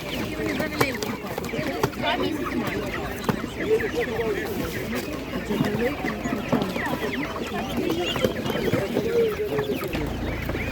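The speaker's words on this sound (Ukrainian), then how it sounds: "Така гарна курка" Chickens cluck steadily at a village poultry market in Ukraine, with occasional rooster calls rising over the busy bustle while people talk nearby throughout.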